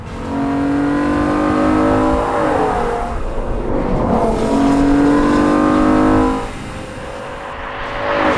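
A BMW M5 V10 engine with a manual gearbox screams through rising and falling gear changes, loud and sustained, with the pitch climbing repeatedly before easing off.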